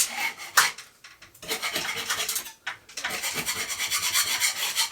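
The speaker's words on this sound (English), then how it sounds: "I'm just going to scrape this lot off." Peeling paint is scraped off a bathroom ceiling in close, rasping strokes, a short pass then two longer continuous stretches of scratchy scraping.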